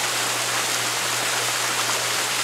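Constant hiss and roar of a waterfall, an even, dense rush of falling water heard close and unbroken with no voices.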